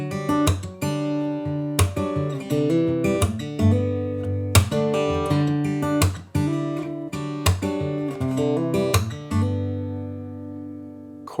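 An acoustic guitar plays a chord made from a C shape slid up the neck, strummed and picked repeatedly with ringing sustained notes and a few re-attacks, close and clear with no talking.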